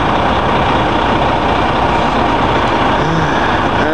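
A truck engine idles close by, a continuous low, rough diesel rumble with a steady level and no talk over it.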